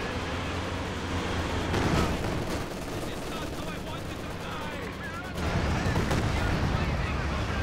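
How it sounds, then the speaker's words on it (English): A Katyusha rocket artillery barrage in a strategy video game, with a steady rumbling wash of launches and explosions and a louder surge near the end. A commentator talks throughout. "HQ finally gets destroyed by a Katyusha barrage there though."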